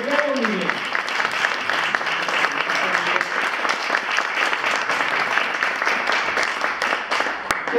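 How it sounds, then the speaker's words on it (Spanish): An audience at an 80th birthday celebration bursts into sustained applause, dense clapping that holds steady and close for several seconds after a brief voice at the start. "les pido un gran aplauso"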